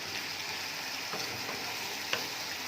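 Plantain sizzling and crackling in hot oil, a steady close-up frying hiss with a few sharper pops, no voices.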